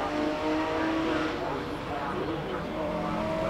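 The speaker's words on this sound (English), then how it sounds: "There's that very quick Porsche." A very quick Porsche race car climbs Simola Hill during a hillclimb event, its engine note steady and moderately distant under a commentator talking throughout.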